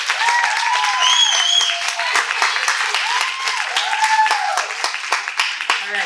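Audience at a web series premiere applauds loudly and steadily for several seconds, with dense clapping and a few cheers and whoops rising over it.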